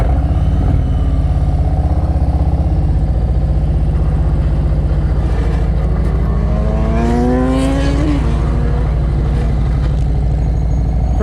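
A motorcycle in slow-speed practice riding through tight turns, its engine a loud, close, steady rumble with a rising, wavering whine midway and light clatter, continuous throughout.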